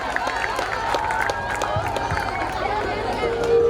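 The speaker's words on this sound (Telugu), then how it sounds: "క్లాప్స్ కొడుతూ వేదికపైకి ఆహ్వానించాలి" An audience at a college freshers event claps and cheers as a student is welcomed onto the stage, with a moderate, continuous patter of applause and crowd noise mixed with a voice on a public address system.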